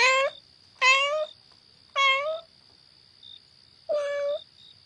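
A cat meows four times at uneven intervals, each cry clear and close, with a steady high electronic tone running beneath and otherwise quiet surroundings.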